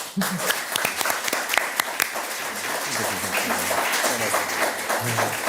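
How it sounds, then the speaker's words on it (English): Warm applause from a conference audience at an event on justice in Syria, steady clapping from many hands with a few sharp nearby claps and faint voices beneath. "Please give them a warm applause."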